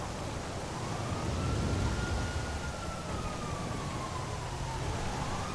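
A police siren in GTA V wails in a slow rising and falling sweep, distant and steady over a low rumbling background, with no talking.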